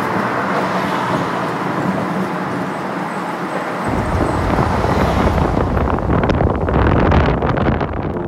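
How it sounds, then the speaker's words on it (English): Steady flow of cars along a New York City highway, a continuous broadband roar that swells and surges like waves, close and loud with wind buffeting the microphone and no one speaking. "There is a constant flow of cars that I like to call urban ocean waves."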